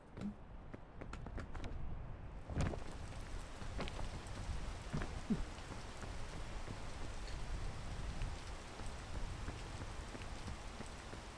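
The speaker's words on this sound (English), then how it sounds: "Probably wait for the rain to pass on by here." Steady rain pours down in the game PEAK, a constant hiss of drops on the ground with a few soft scattered knocks, heard alone with no talk.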